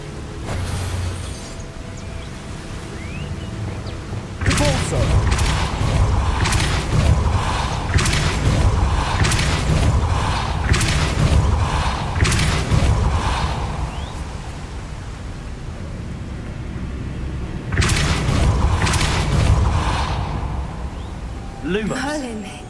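A Repulso spell cast in the video game Hogwarts Legacy, heard as a rush of broad noisy bursts with booming impacts that swell after a quieter start and return near the end.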